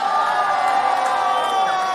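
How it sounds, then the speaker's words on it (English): A rap battle crowd cheers and whoops in a steady, excited roar of many voices, loud and continuous throughout. "It's such like a cheesy rap battle crowd at the moment though."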